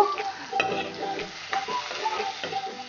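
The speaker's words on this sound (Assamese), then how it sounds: "এইখিনি ৰঙচুৱা হোৱালৈকে ভাজি লম" Sliced onions and a bay leaf fry in a pan, with a steady close sizzle broken by repeated scraping stirs and clinks of the spatula, and no voices.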